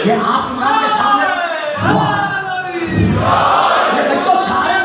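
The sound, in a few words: crowd chanting religious slogans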